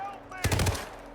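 Shotgun fire in the video game Hitman World of Assassination: a short burst of loud, rapid blasts in the middle of a quiet stretch, over faint game background sound.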